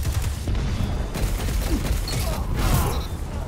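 Rapid rifle gunfire from a Destiny Crucible match, dense overlapping shots and mechanical clatter filling the clip continuously over a busy game soundscape.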